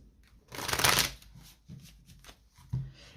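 Tarot cards being shuffled quickly by hand, a soft riffling burst near the start followed by lighter papery slides and taps, quiet and close with no talking.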